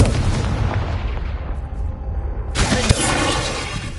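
A spell cast in Hogwarts Legacy: a loud, dense magical whoosh fades away, then a sharp burst bursts in with a crackling, explosive rush.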